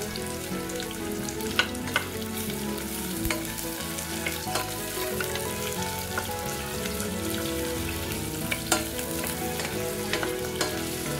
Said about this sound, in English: After heating up the oil, add in your onions and your cauliflower.